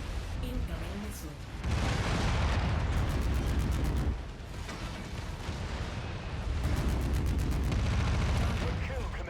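Missiles slam into mechs during combat in a mech video game, making loud, dense rumbling blasts that roll on almost without a break, with two heavier surges of explosive crackle.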